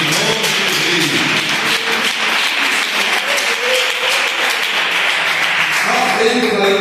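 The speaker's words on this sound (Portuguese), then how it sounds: "Palmas que glorifica o nome de Deus." A church congregation applauding, continuous loud clapping from many hands throughout with faint voices mixed in underneath.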